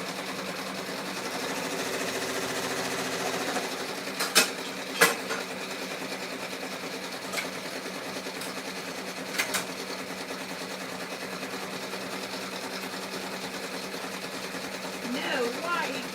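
A sewing machine runs steadily at a fair distance through the whole stretch, a constant mechanical whir with a few sharp clicks and knocks on top, and voices faintly present.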